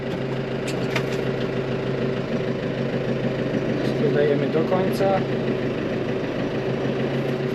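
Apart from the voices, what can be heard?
New Holland T4.65 tractor engine running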